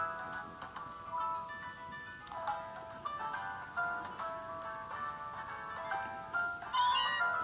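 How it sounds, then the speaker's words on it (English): A cartoonish cat meows repeatedly in Pokemon Moon, in short, bright, tonal calls over quiet game audio, at low volume. "And that's what a meow sounds like."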